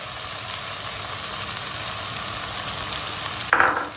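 Washed lentils are stirred through hot vegetable oil in a pot for golden lentil soup. A steady, moderate sizzle carries throughout, with a brief louder scrape and splash near the end.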